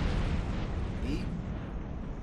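Missile explosion in the XCOM video game, heard as a dense, rumbling blast of noise that holds steady and loud before tapering slightly.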